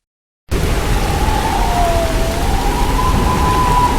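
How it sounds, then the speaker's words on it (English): Heavy rain during Typhoon Yagi in Vietnam: after a moment of silence, a dense, loud, steady roar of downpour begins and continues evenly to the end, with a faint whistling tone above it. "Mother Nature, in her own way, sent Vietnam the maximum amount of rain and wind possible"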